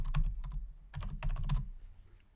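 A computer keyboard clacks in short bursts of quick keystrokes with brief pauses between, close and fairly soft, with no voice over it.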